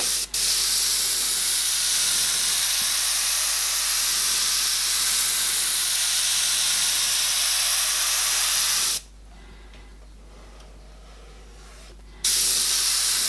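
An airbrush fitted with a new nozzle sprays paint in a steady, close hiss that cuts out for a few seconds and then starts again.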